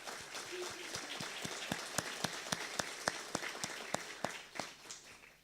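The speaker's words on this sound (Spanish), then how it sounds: "Quiero expresar un saludo especial y pedir un aplauso" Audience applause at a territorial planning seminar held by a government ministry: a steady wash of many hands clapping indoors, with a few sharper individual claps standing out throughout.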